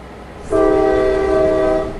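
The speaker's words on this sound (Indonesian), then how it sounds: "Peluit lokomotif berbunyi nyaring dan kereta kelas 1 berangkat." A locomotive whistle from a departing first-class train blasts loud and steady, starting abruptly and holding for about a second and a half before fading.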